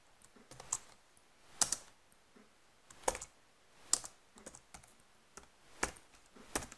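Close, quiet keystrokes on a computer keyboard as code is entered, irregular clusters of soft clicks with a few sharper key presses standing out, and no speech.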